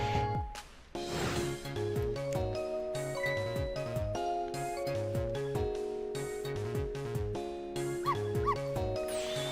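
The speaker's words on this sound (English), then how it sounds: "Yes, you guessed it! I barked! You bet I did!" A dog barks and yips repeatedly in the video game Ghost Trick, its cries set inside a dense, steady music track that plays loudly throughout.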